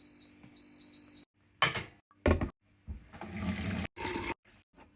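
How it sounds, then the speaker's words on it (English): Water poured from a cup into a medium-sized cooking pot on a stove, heard as a few short splashing bursts with a longer steady pour in the middle, close and fairly loud, preceded by brief electronic beeps from the cooker. "Here we're going to put 1 cup of water."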